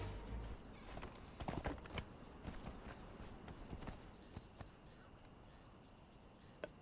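Horse hooves clip-clop at a steady walking pace in the video game Conan Exiles, faint and close, with a few sharper hoofbeats and light ambient outdoor noise.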